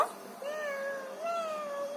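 A voice imitates a cat's meow, one long drawn-out mew with a rising lilt near the end, fairly close and alone.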